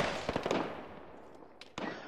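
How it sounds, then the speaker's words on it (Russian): Gunfire in the World War II game Iron Front, a quick cluster of sharp cracks that die away, then a pause and two more isolated reports, fairly faint and distant. "Стреляет, промазали."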